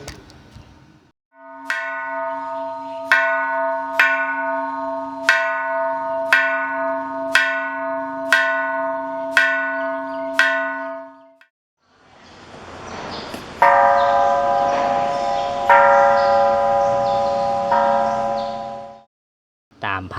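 A large temple bell at Wat Na Tang Nok, Wang Noi, Ayutthaya, is struck about eight times at a steady pace, each ring humming out, followed by several more deep, resonant tolls.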